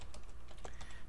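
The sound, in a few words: typing on a computer keyboard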